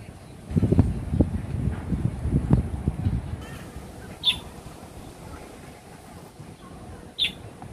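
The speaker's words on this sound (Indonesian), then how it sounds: "Malah ada burung terucuk." Wild birds give a few short, sharp calls at a distance, two brief chirps standing out against low, rustling outdoor background noise with some wind.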